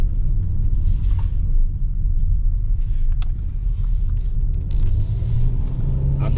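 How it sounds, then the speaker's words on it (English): A Kia Telluride SUV accelerating through a turn, with heavy, continuous low engine and road rumble heard from inside the cabin, steady and loud throughout with no talking. "Accelerate on a turn."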